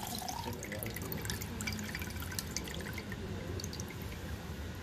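Running water in a lab, a steady close trickle with scattered drips splashing over a continuous watery hiss, with no voices.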